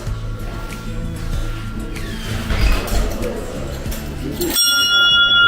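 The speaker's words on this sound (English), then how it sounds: "That's the dinner bell." A dinner bell in a bell-making workshop gives a sharp ring near the end, its bright tone sustaining after a stretch of clattering and rustling room noise.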